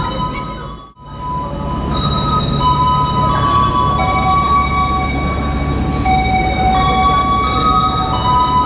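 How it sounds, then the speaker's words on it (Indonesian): The Pangandaran train from Banjar to Gambir rumbles through a station in a loud, continuous low roar, with high metallic wheel squeals and tones ringing out above the rumble after a brief dip at the start. "di depan kita ini kereta api Pangandaran ya, dari Banjar tujuan Gambir"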